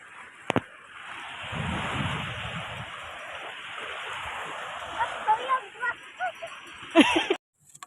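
Steady wash of ocean surf rolling in at a San Diego beach, with wind buffeting the microphone and a few brief bumps and clicks near the end.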